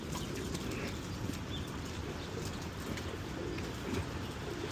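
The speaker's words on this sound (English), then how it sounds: "Look at these pigeons going in on something." Pigeons coo softly on a snowy Spanish Harlem street in New York while feeding on scattered rice, low murmuring calls repeating amid steady outdoor city ambience.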